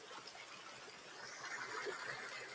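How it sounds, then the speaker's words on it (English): Running river water, a steady faint broadband rush and trickle heard from outdoors, continuous and even throughout with no voices. "anything new in these sounds of the running water."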